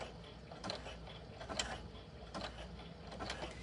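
A Baby Lock sewing machine stitching on a button gives a steady mechanical whir with soft rhythmic ticking of the needle mechanism, quiet and close, with no voices.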